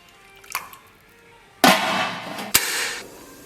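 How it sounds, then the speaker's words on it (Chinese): Chicken legs are tipped into leftover cured-pork braising broth: a faint clink, then two splashy, sloshing pours close by, with no talking. "咱把剩下的鸡腿给它倒到里边"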